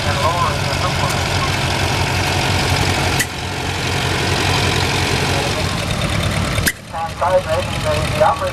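Antique tractor engine idling during a parade in Flagstaff, Arizona, a steady low rumbling chug held throughout with brief interruptions and outdoor background noise.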